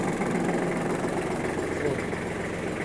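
A Kubota L1-195 tractor engine runs at a steady idle with its PTO engaged, a continuous low mechanical rumble throughout.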